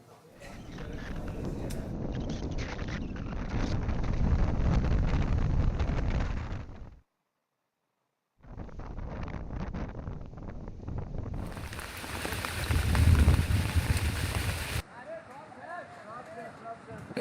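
Steady roaring wind with heavy rain from Cyclone Remal battering the Bangladesh coast, a dense continuous rush broken by a brief silent gap and then resuming, loud and close with gusty buffeting.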